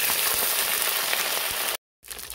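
Washed brinjals frying in hot oil in a kadhai give a loud, dense, steady sizzle that drops out briefly near the end and then returns.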